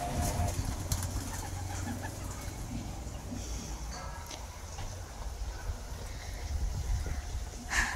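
Pigeons coo and stir on a rooftop while being fed, with soft calls and occasional wing flutters set against a steady outdoor background hum, at moderate distance and fairly faint.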